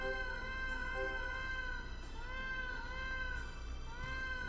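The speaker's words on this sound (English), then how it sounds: "The Norwegian cat" A Norwegian cat meowing in repeated drawn-out, tonal cries, each call rising and falling, steady and fairly close over a low background hum.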